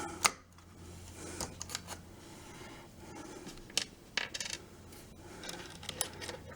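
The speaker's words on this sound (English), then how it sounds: "We're going to start taking out the screws." Small screws being backed out of the front panel of an N scale model railroad layout, a run of sharp metallic clicks and light rattles at close range, irregularly spaced with no voices.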